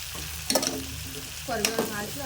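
Onions fry in a pan for a healthy home-cooked school breakfast, a steady sizzle broken by two louder scraping bursts as a spoon stirs them, close up with no talking.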